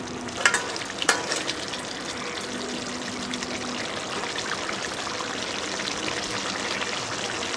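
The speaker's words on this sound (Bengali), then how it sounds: "আবারও আমি খুব ভালো করে নেড়ে দেব।" A steady hiss and bubble from a pan of bacha fish curry with potato and pointed gourd, with a couple of sharp clinks as it is stirred early on.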